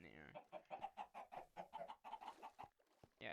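Minecraft chickens cluck in a quick run of short, evenly paced calls, faint overall and heard alone with no voice over them.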